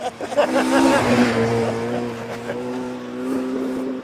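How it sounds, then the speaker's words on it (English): A Ford Escort rally car, number 71, drives past on a rally stage, its engine loud and close, revving hard and then holding a steady, droning note as it passes. "Ford Escort."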